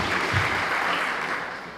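Brief, dense applause from an audience honoring the new Wicomico Teacher of the Year at a school district event, a continuous wash of clapping that fades slightly toward the end.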